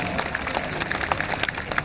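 An audience at a mushaira, an Urdu poetry gathering, claps together in a steady, dense patter of applause that fills the hall throughout.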